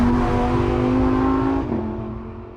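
A Lamborghini Huracán V10 engine revs loudly and smoothly up close, then its pitch drops and the sound eases off as it settles.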